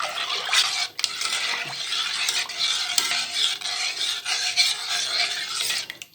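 Milk béchamel thickened with flour stirred steadily in a pot, a continuous scraping, rasping swish of spoon against the pan bottom with a slight sizzle, close and fairly loud, no talking.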